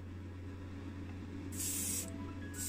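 Two bursts of airbrush spraying while painting a Matchbox 1962 Chevrolet Corvette C1 model, the first hissing for about half a second and the second starting near the end, over a steady low hum.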